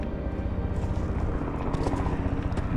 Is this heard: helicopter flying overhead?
yes